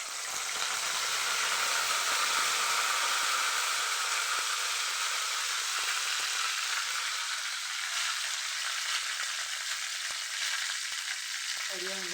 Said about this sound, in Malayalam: ചീനച്ചട്ടി ചൂടായ നമുക്ക് എണ്ണ ഒഴിച്ച് കൊടുക്കാം. കരിയാമ്പല ഇട്ട് കൊടുക്കാം.